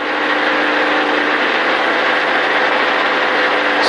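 A NASCAR stock car engine drones loud and close from inside the car on an oval track, holding a steady, dense roar without pause.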